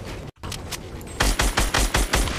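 Fortnite gunfire rings out, starting with a few sparse shots before a rapid string of loud, evenly spaced bursts that fire in quick succession, close and punchy with no voices.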